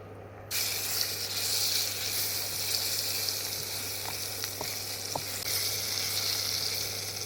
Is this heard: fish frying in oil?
yes